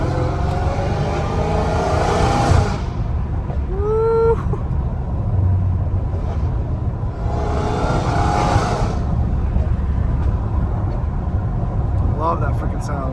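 A Dodge Hellcat Redeye with its exhaust valves open is driven on city streets. The engine drones steadily, then swells into two loud, roaring revs, each a few seconds long, with a brief voice partway through.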